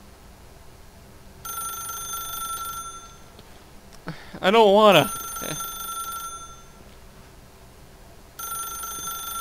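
Telephone ringing in the video game The Stanley Parable, a steady electronic trill heard in two stretches with a brief louder burst between, and a voice speaking over part of it.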